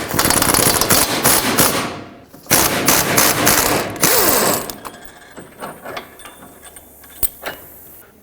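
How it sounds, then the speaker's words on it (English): A 21mm wrench breaking a seized bolt free on the rear toe arm of a 2007-2009 Saturn Aura, heard as loud rapid ratcheting bursts close by, then a quieter stretch of scattered metallic clicks and clanks. "Use a 21mm wrench on the nut side. I'm going to attempt to break the bolt side free."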